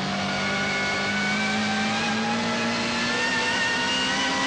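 A BMW M3 GTR race car on the Nürburgring pulls in third gear. The engine gives a loud, sustained, tonal wail that climbs slightly in pitch as it accelerates, with no voices over it.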